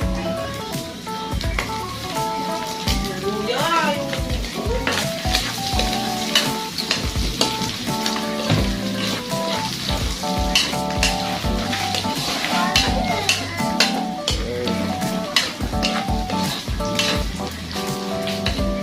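Garlic fries in a pan while cooking bopis, a loud, steady sizzle with stirring scrapes, close and continuous, with background music and talk running throughout.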